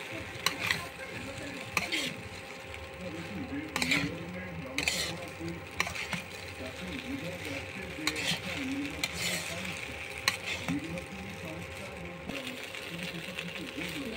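Pasta cooking in a pan at home is stirred with repeated scraping strokes and a soft sizzle, close by, while someone talks over it.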